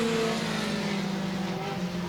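Race cars run the final lap at Heart O Texas Speedway, a steady engine drone humming continuously at moderate distance throughout the short stretch.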